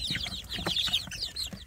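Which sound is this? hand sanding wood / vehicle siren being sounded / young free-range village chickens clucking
young free-range village chickens clucking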